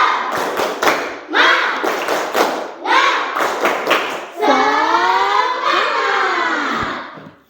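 A classroom of students performs a rhythmic 'tepuk semangat' cheer in a teacher's performance-assessment lesson, with bursts of sharp claps in a steady pattern alternating with loud group chanting and shouting voices, near and energetic.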